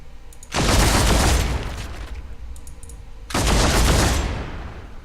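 Two loud bursts of rapid automatic gunfire from Space Marine weapons in the Warhammer 40K Deathwatch video game, each lasting about a second and separated by a quieter gap.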